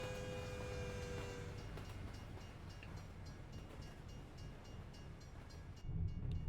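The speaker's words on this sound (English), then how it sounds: "this train comes through." A train passing in the American Truck Simulator video game, a steady rumbling roll with faint rhythmic clatter of cars, heard at moderate distance alone with no talk.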